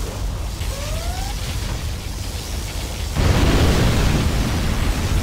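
Particle cannon blast in the strategy game Command & Conquer Generals Zero Hour, a constant roaring rumble that suddenly jumps louder and denser partway through and keeps booming to the end.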